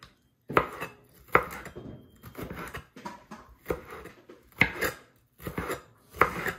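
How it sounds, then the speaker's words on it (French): Small hot peppers chopped finely with a knife on a board, a run of crisp close blade taps in quick irregular bursts, with nobody talking. "j'aime couper petit piment."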